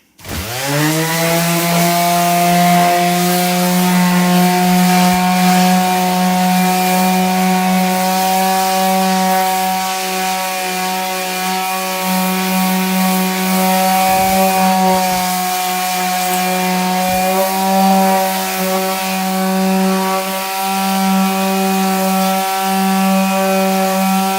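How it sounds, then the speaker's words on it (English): A steady power sander whines at close range, droning continuously on a single buzzing pitch with slight rasping variations as it works over wood. "I did a little extra sanding on this"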